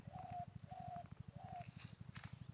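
Faint birds calling outdoors, a few short repeated whistling notes over a low rhythmic pulsing hum, quiet and somewhat distant, with no voices.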